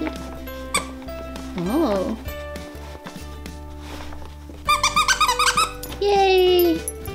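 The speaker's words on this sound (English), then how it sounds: "if you squeak it, he might be more interested" A rubber dog toy is squeaked in a home during the holidays: several short high squeaks in a quick series, then one longer squeak. Soft household noise and voices run underneath.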